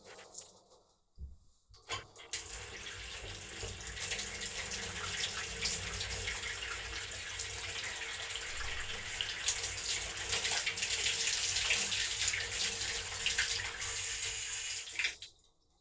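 Hot water gushes steadily from a bath tap, a continuous hiss starting abruptly after a brief handling noise and stopping near the end, close and alone.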